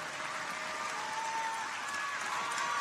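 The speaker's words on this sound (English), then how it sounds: "He takes the plaudits of the crowd, blows the kisses." Stadium crowd cheering and applauding a para athlete's long jump at the 2018 World Para Athletics European Championships, a steady distant roar of clapping and voices sustained throughout.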